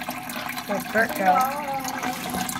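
Water from a small waterfall in a turtle tank splashes and trickles steadily, with a bubbling gurgle, while a person speaks over it.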